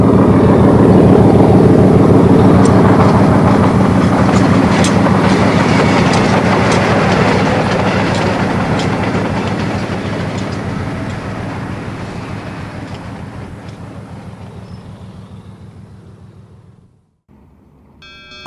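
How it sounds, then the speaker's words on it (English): A three-car Oyster Bay train with an ALCo RS3 locomotive runs through new snow at North Roslyn, its loud steady rumble and clicking wheels fading gradually over many seconds before a sudden drop. "A three-car Oyster Bay train with an RS3 is accented against the new snow"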